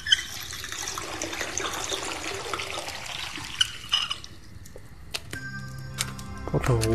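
Water pours and splashes into a pot in the video game House of 1000 Doors, a steady rushing stream for several seconds that fades out, followed by scattered clinks and chimes.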